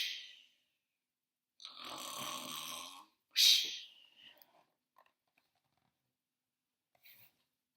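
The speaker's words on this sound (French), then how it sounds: "L'ogre se mit alors à dodeliner de la tête et à ronfler" Cartoonish snoring of an ogre in a Jack and the Beanstalk style fairy tale: a long, rasping intake followed by a shorter, louder snort, then near silence with faint stirrings. Close and alone, no talking.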